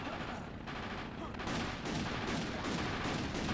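Sustained machine gun fire in Castlevania Legacy of Darkness, a fairly faint, steady stream of rapid shots that grows denser midway, with no pauses.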